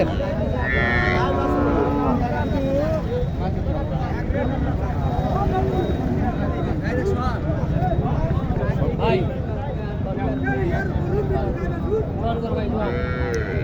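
Cattle low and moo amid a busy cattle market crowd, with constant chatter and voices all around, at a rural cattle market in Naogaon, Bangladesh.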